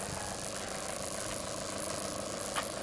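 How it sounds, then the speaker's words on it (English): A truck engine idles somewhere below, a constant, even mechanical drone with faint rattling, heard at a distance without talk. "All that noise is my truck down there."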